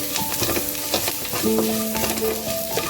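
Coriander powder, pepper and cashews fry in oil in a pan for rice seasoning, giving a dense crackling sizzle with frequent scraping and clinking as a spoon stirs, close and constant.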